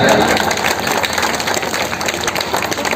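Continuous crowd applause at a Holi Milan gathering in a ward meeting, a dense steady wash of clapping for about three seconds, loud and even, with some background voices under it.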